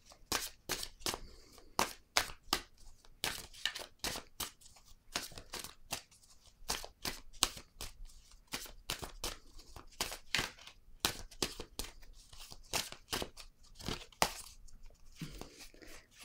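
A deck of oracle cards is shuffled and a card drawn, producing a rapid series of crisp, close riffling slaps and papery rustles in irregular bursts with no talk over them.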